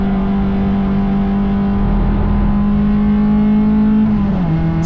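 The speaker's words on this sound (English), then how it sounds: "Snapping fourth down the straight, these little XLs can get up to about 170 k's down the straights." A small XL race car engine drones loud and close as it accelerates down the straight at The Bend, holding a steady high pitch before the note drops near the end at a gear change.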